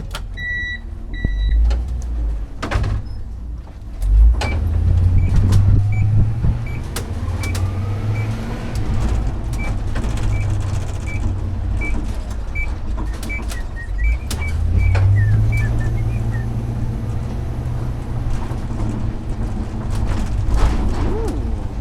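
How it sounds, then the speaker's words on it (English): Truck driving on a road, a low steady engine and road rumble with a few deeper swells as it accelerates, plus scattered clicks and faint high beeps inside the cab. "Let's keep on driving."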